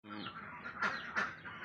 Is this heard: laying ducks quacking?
yes